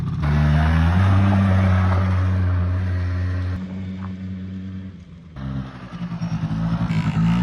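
A rebuilt four-wheeler ATV engine runs loud and close on a 60-to-1 fuel mix, a steady buzzing idle that dips in the middle and then returns with pulsing revs near the end.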